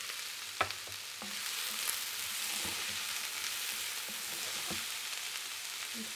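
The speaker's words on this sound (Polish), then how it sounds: "Olej nam się rozgrzał," Chopped onion crackles and sizzles in hot coconut oil, a steady frying hiss broken by a few soft clicks and scrapes.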